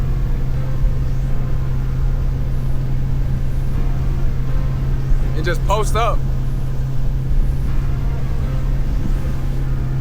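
A motorboat engine on Lake Como gives a loud, steady drone with a low hum, running without a break while people talk over it.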